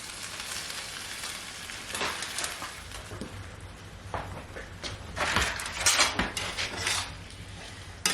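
Canned yellow gold Yukon potatoes frying in a pan at an off-grid cabin, a steady close sizzle with occasional scraping and clinks of a utensil against the pan.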